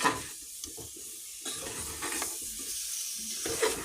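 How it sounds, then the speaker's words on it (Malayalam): Chicken in gravy stirred in a pan, with a soft sizzle and bubbling under irregular scrapes and stirring strokes, close by and moderately quiet, with no talk. "നന്നായിട്ട് ഇളക്കി കൊടുക്കുക"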